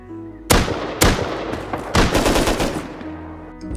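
Rapid bursts of loud gunfire in the video game Rust, several sharp volleys in quick succession with a rattling machine-gun rhythm, close and punchy, no voices.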